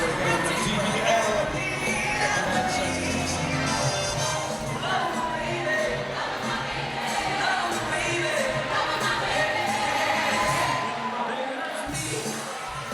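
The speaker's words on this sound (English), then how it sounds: "You might hear on the mics, the crowd are singing along and loving that tune." An awards show crowd sings along to a tune, filling the room with a dense, steady wash of voices and music from start to finish.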